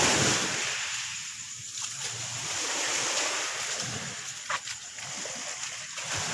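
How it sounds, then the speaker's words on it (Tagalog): Sea waves wash and splash continuously near a shoreline, a steady broad rush of surf with occasional louder breaking splashes and no talk. "Nani dagat guys."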